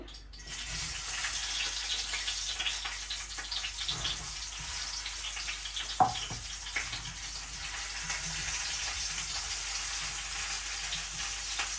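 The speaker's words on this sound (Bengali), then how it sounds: "এখন এই যে পটল ভেজে নিই তেল দিয়ে দিচ্ছি" Pointed gourd (potol) fries in hot oil with a steady, bright sizzle that holds for the whole stretch, broken once by a single sharp utensil clink partway through; no voices.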